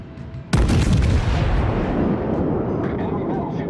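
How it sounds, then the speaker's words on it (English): Battleship main guns in World of Warships let loose a full volley: one sudden, heavy blast whose deep booming roar rolls on and slowly fades, loud and close. "Full volley."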